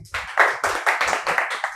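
An audience at an AC repair training institute claps in unison. About seven rhythmic, fairly loud beats of many hands come in a steady pulse with no talking over them.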